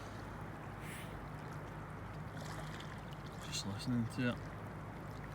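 Water flowing past a fishing spot in Scotland, a steady broadband rush filling the background, with someone speaking briefly near the end.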